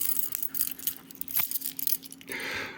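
A bunch of keys and metal trinkets, including brass and bronze pieces, jangles on an everyday-carry key organizer, bright metallic clinking rising and falling close up, ending in a steady rattling shake.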